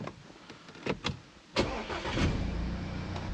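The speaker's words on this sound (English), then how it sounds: "now if we start the engine again" An Audi A4 Avant engine cranks with a few short clicks and bursts, then catches and settles into a steady idle, heard up close with no talking.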